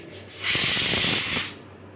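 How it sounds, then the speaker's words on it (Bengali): A pressure cooker releasing steam: a loud, broad hiss that bursts out suddenly, holds for about a second, then cuts off, heard alone and close by. "প্রেসার কুকারে সামান্য জল এবং নুন দিয়ে একটা সিটি দিয়ে নিতে হবে"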